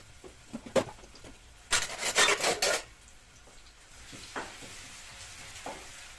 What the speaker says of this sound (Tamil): ஜீரகம், ஆனியன் போட்டுக்கோங்க.